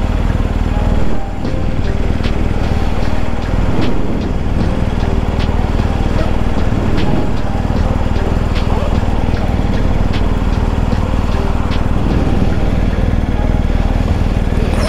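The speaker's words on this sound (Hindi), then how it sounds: "बाइक को वार्म अप करते हैं" A BMW R 1250 GS Adventure motorcycle engine warms up at a steady, loud idle, a continuous rumble with faint ticking and some movement sounds nearby.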